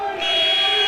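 Halftime buzzer at an Iowa Central Tritons versus Minnesota West college basketball game, a loud sustained electronic tone holding steady for the whole moment, with faint crowd and commentary beneath.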